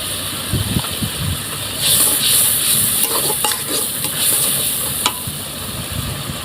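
Hilsa fish masala sizzles and hisses in hot oil while being stirred in a pan, a loud steady frying crackle broken by scraping stirs and brief clanks, with no talking.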